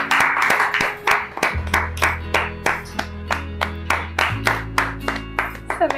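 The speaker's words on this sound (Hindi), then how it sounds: "ताली बजा दीजिए गायत्री।" Rapid, rhythmic hand claps from people during a home quiz-style game, a steady run of sharp beats close by over a low background hum, with no talk.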